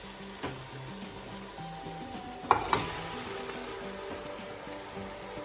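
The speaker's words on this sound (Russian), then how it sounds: "Лук прожариваем минут 20." Onions fry in a pan with a steady low sizzle, joined briefly by a couple of louder clatters from stirring partway through.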